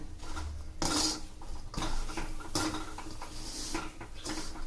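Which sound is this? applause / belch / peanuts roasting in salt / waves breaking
peanuts roasting in salt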